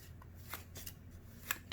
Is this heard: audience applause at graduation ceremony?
no